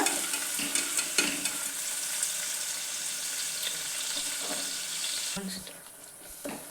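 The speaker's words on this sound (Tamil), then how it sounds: "சின்ன சின்னதாக கட் பண்ணிக்கோங்க நல்லா வறுத்துக்கோங்க நல்லா வறுப்படணும்" Chopped onion fries in a pan for tomato kadayal, giving a continuous close sizzle broken by occasional stirring clicks and scrapes, with no one speaking.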